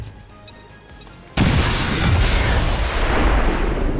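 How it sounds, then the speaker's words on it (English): A grenade goes off in XCOM 2: after a quiet moment with faint clicks, a loud sudden blast hits, then a sustained roaring rumble of debris and fire that keeps going to the end, with no voices. "Throwing grenade!"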